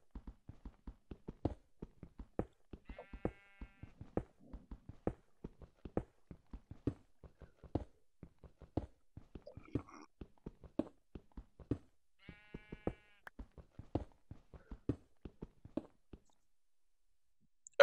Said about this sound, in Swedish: Och jag hör ju fåren där ute.